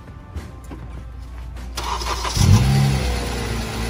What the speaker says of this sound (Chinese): 用手堵住节气门，让小哥再次打火